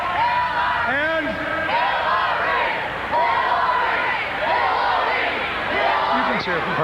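A large crowd cheers and chants for Hillary on 1992 election night, a loud continuous roar with rising whoops and shouts, steady throughout with no clear pauses.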